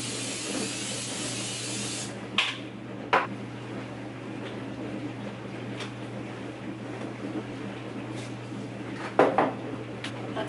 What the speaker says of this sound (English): Coconut oil spray.